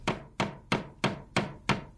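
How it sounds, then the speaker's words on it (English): A hammer strikes a nail punch to drive finishing nails into hardwood flooring, six sharp evenly spaced taps in quick succession, close and clear. "Use finishing nails and a nail punch."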